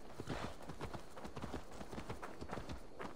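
Horse hooves clip-clop in a rapid, steady gallop in Assassin's Creed Valhalla, close and continuous over a busy game soundscape.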